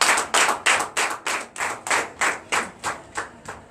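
Members of a church congregation at a Sunday service in Benin clapping in a steady, rhythmic beat, about a dozen sharp claps evenly spaced and close, with no speech over them.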